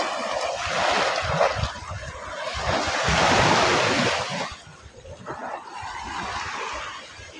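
Sea waves breaking and washing along the beach at Balatan, Camarines Sur, a steady roar of surf with rising and falling swells and some wind noise on the microphone, close and loud with no talk.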